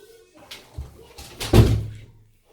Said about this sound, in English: Carter, go close the door.